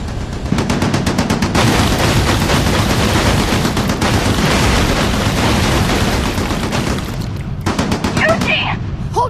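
Sustained automatic gunfire roars loud and continuous in an anime battle scene, a rapid stream of shots that breaks off briefly near the end as voices shout over the tail.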